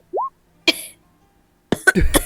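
A single short cough-like burst, followed a moment later by a couple of harsher, louder coughs close to the mic.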